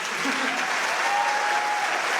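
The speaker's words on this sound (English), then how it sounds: "Can we have one more round of applause for the boys?" A concert audience applauds a high school boys' choir with steady, dense clapping throughout, and a voice is faintly audible beneath it.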